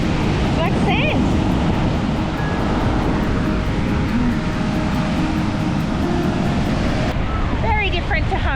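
Steady roaring wind and rolling surf on a black sand beach in Lombok in wild weather, loud and continuous with buffeting close to the microphone, plus brief voices near the start and end.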